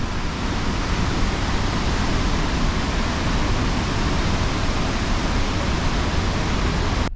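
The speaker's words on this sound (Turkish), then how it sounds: "Bayağı da bulut yapmış su indikçe bayağı sert akıyor ama güzelliğe bak ya" A powerful waterfall on the Zimbabwe–Zambia border pours down in a steady, loud, unbroken roar of rushing water, heard up close.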